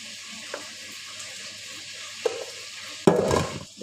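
Fish frying in a pan gives a steady close sizzle, with a couple of faint clinks and then a louder burst of crackling and stirring near the end.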